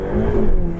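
Ferrari 488 Pista engine revving in a short, steady burst, a loud close mid-pitched drone with a slight rise in pitch and no pauses.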